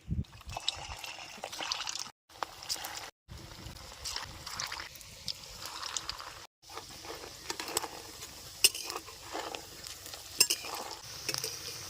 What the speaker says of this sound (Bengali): মাখায় রাখা এই মাছের মিশ্রণটা ছোটো ছোটো বলের আকৃতি করে গরম তেলের মধ্যে দিয়ে দেবো